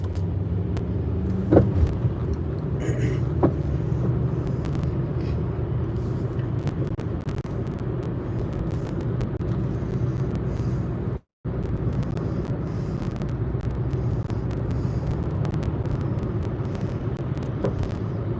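Steady interior road noise and low engine rumble inside a rented Hyundai car while driving, continuous and even throughout with no talking.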